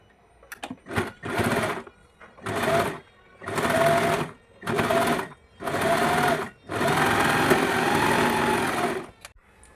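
Sewing machine stitching a blouse, running in repeated bursts of a few seconds each with short pauses between, close and steady, the last run longest.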